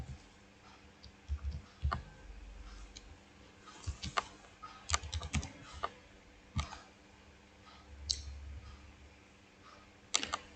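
A password is typed on a computer keyboard, giving sparse, irregular key clicks with short pauses between them in a quiet room.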